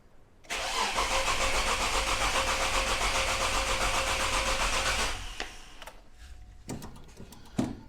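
A Nissan GQ Patrol engine, freshly fitted with a replacement cylinder head, cranks and fires up, then runs at a loud, steady idle for several seconds before dropping away to quieter, uneven sounds.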